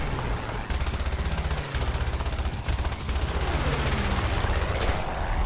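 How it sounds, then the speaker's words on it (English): Rapid machine gun fire from a Ki-27 otsu fighter in a WWII air combat video game, long continuous bursts with brief pauses over a steady loud engine drone. "Get some early shots in on that P-26."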